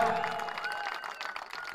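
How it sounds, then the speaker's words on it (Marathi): Brief, faint applause ripples through a small crowd at a cricket premier league prize distribution, a short burst of clapping that fades within two seconds. "टाळ्या होत्या."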